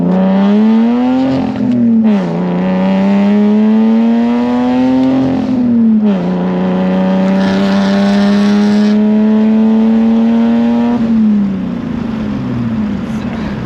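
A straight-piped 1990s BMW 328i E36 sedan pulls hard through first to third gear, its loud, raspy exhaust climbing in pitch through each gear with brief dips at the two shifts, recorded close with no talking.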